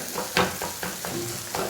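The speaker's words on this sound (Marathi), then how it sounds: "आपला चमचा तो पूर्णपणे भुर्जीमध्ये मॅश करत राहायचा." A spoon mashes and stirs egg bhurji in a sizzling pan, giving a steady frying hiss punctuated by several rhythmic scraping knocks, close and clear with no talk.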